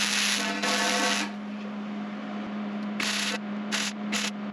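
Hobart 210MVP MIG welder on a thin steel workbench frame, a loud crackling hiss in several bursts of varying length, with a steady hum running underneath throughout.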